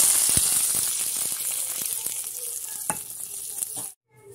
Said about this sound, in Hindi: ये चली जाएंगी कड़ी पत्ता और लाल मिर्चें और ज़ीरा, और इससे हम बघार लगा देंगे।